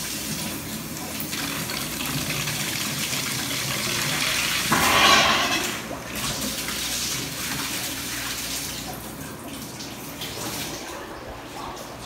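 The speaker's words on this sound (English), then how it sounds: "So now this sucker is going to fill up" Water rushes steadily through an opened valve to fill a fish tank, a continuous close gushing that swells briefly with a sharp surge midway, then settles back to a constant flow.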